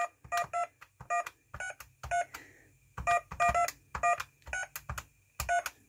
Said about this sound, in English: We used to play Happy Birthday down the phone using the DTMF tones